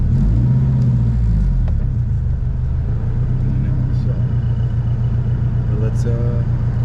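A turbocharged Honda EG hatchback rolls off on freshly installed, lowered coilovers, its engine rumbling steadily and loudly up close throughout with broadband road noise, while someone talks over it.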